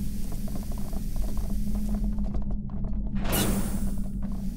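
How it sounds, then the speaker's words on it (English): A door being welded in the sci-fi game Aliens: Dark Descent, heard as a steady mechanical ratcheting and grinding hum with a rising hiss near the end, continuous and close with no voices. "I can weld this."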